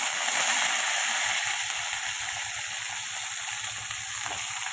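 Potato pieces with turmeric fry in a pan, producing a dense, loud, steady sizzle with a faint low bubbling pulse underneath, heard up close and without speech.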